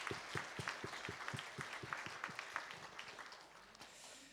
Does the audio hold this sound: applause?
yes